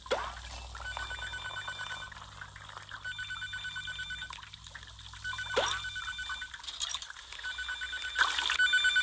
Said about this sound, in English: Yeah, I know I got a phone call.